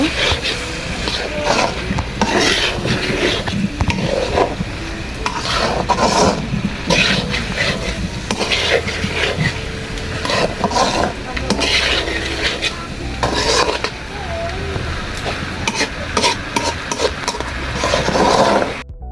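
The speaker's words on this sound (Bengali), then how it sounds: "এখন সেদ্ধ করে আলু দিয়ে দেব আলু দিয়ে ভালো করে একটু কষিয়ে নেব" Boiled potatoes being stirred into cooked masala in a pan for an egg omelette curry, with repeated scraping and clattering of a spoon against the pan over a constant sizzle, close and busy throughout.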